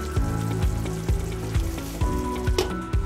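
A paste of tomato, cashew, raisin and green chili fries in a pan for a restaurant-style mushroom curry: a bright sizzle with rhythmic utensil knocks and stirring strokes about twice a second, close up, no voices.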